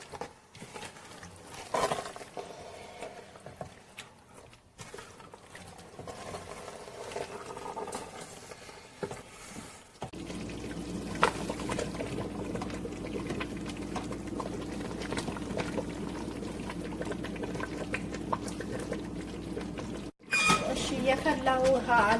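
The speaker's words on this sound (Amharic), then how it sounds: "የፈላ ውሃ አለኝ እዚህ ጋር በጣም ትንሽ እጨምርበታለሁ።" Boiling water is added to Ethiopian doro wat, a chicken stew with pieces of chicken cooking in fat, and a steady close sizzling, bubbling hiss runs loud and continuous through the second half.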